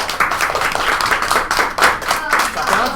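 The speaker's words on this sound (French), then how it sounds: "On s'applaudisse tout le monde." Classroom of schoolchildren clapping for their presenters, a steady, dense patter of many hands close by, continuous for the whole stretch with slight swells.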